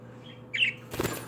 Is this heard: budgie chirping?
yes